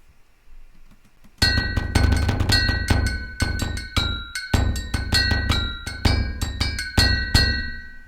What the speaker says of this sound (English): Cool interplay between the kick and the bell there